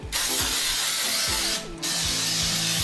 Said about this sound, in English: you're going to spray your baking dish with a baking spray, like a Pam or something, an oil spray